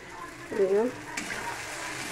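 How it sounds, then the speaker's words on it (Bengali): Spice masala of ginger, garlic, green chilli, onion, cumin, coriander and tomato frying for a fish curry, a short soft sizzle with one brief scrape of stirring. "এই মশলা কষানো হয়ে গেছে"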